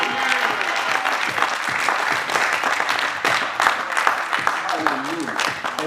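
A church congregation at a French-language celebration service breaks into applause and cheers for God, dense clapping with shouted voices and vocal cries rising over it throughout.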